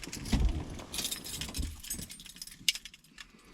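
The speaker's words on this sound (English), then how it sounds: "I laid my keys down somewhere in here." Car keys jangle and clink close by in a quiet interior while someone searches for them, a few short metallic bursts scattered over a few seconds.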